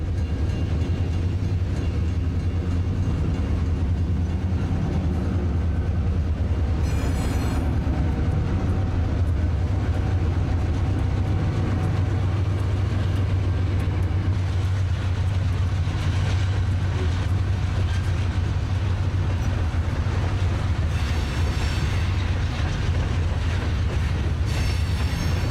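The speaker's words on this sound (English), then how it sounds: "Another southbound CSX freight, headed up by a brand new General Electric locomotive, escorts a train of mixed freight through Stevenson." A long CSX freight train led by a new General Electric locomotive rolls past close by in Stevenson, a steady low rumble of wheels and cars with occasional squeals and clanks, no talking.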